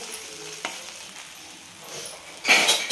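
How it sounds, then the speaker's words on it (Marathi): Poha being stirred in a pan, a quiet background sizzle broken by a few scraping strokes and a louder burst of stirring near the end. "आता हे छान असे मिक्स करून घ्यायचे"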